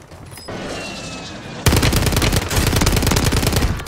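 Assault rifle fire in Call of Duty on Rebirth Island: a loud, close, rapid automatic burst that starts sharply partway through and hammers on steadily, with quieter game ambience beforehand.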